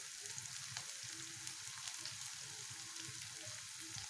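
Chopped tomatoes fry with turmeric in a pan, giving a steady, soft crackling sizzle with faint stirring scrapes, continuous and fairly quiet throughout.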